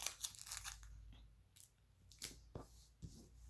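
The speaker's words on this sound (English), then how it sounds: "I'm going to tape down the 3 sides" Adhesive tape is pulled and torn while taping down the sides of laminated pockets for a kids' craft: several quiet, crinkly rips and sharp tears in short bursts, close and faint.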